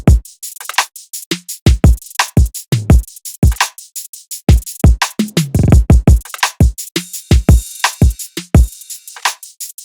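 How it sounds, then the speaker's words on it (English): Tight Ableton stock drum samples play alone in a programmed beat, with punchy kicks, snappy snares and crisp hats hitting in a steady, fast groove. The pattern is loud and dry, with no voices or other instruments. "So yeah, the drums sound like this by themselves."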